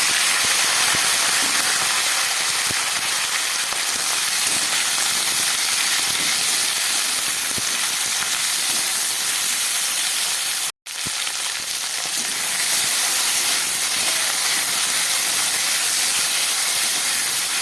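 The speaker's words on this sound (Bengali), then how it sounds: "এই তেলের মধ্যে আমি দিয়ে দিচ্ছি একটু কালো জিরে ফোড়ন, সঙ্গে দিয়ে দিচ্ছি কেটে রাখা শিম, আলু আর টমেটো" Beans, potato and tomato frying in hot oil with nigella seeds, a loud, steady hissing sizzle that fills the whole stretch, briefly cutting out once before resuming.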